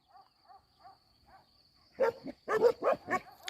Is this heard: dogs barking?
yes